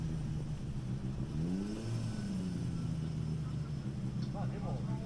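Drift cars at Formula DRIFT Japan, Okuibuki, sweep across a bridge into the inner clipping point, their engines droning and revving steadily, moderately near, beneath a commentator's talk.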